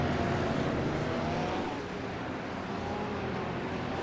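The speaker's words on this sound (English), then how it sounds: "God, I love the noise these GT3s make." Several GT3 race car engines in a racing video game roar together in a continuous, dense drone, steady and loud with a slight rising and falling pitch.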